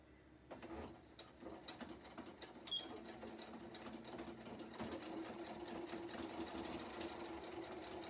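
A sewing machine stitches lace onto a fabric journal cover, running in a steady, faint, continuous whir for several seconds after a few short starts and a light click.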